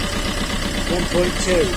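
Fiat Panda 1.3 Multijet diesel engine idling with a steady low rumble and faint knock, with voices talking over it.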